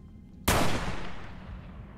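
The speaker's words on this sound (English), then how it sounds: "The gunshot that follows will still ring in your ears forever." A single loud video game gunshot in Fallout: New Vegas cracks out suddenly, then its echo rolls on and slowly fades over the next second and a half.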